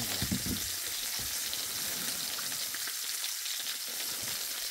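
Steady sizzling of food frying in a pan, a dense crackling hiss throughout with faint clinks of stirring and no voices.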